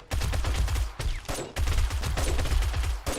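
Rapid video-game gunfire in a zombie-horde blood moon survival game, loud bursts of overlapping shots with two brief pauses between them.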